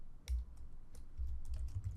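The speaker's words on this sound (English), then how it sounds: "click that button, and I can type" Sparse, soft taps on a computer keyboard, a few scattered keystrokes with low background rumble, close and faint.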